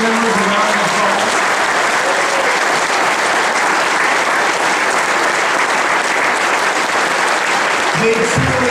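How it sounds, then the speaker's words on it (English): Sustained, loud round of applause from a banquet audience honoring association board members, a steady dense wash of clapping lasting the whole stretch. "Would you all join me in giving these board members a round of applause?"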